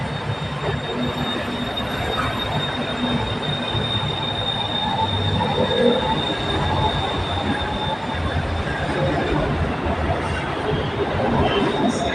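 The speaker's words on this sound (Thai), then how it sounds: "This train is for National Stadium." A BTS Skytrain Silom line train pulls into an elevated station, its wheels squealing steadily over a continuous loud rumble of rolling stock, with no talk over it.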